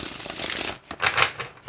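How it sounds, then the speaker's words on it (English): A large deck of about 80 oracle cards being shuffled close up, a quick papery riffle, a short pause, then a second burst of flicking cards. "I think there are 80 cards so shuffling this is really nice"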